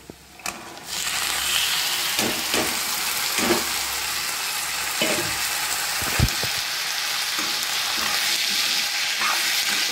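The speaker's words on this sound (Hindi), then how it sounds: "अब इसमें डाल देते हैं टमाटर एंड मटर" Tomatoes and peas frying in a hot pan for a home-cooked vegetable dish, a steady close sizzle running throughout with a few louder spits and stirring knocks, no talking over it.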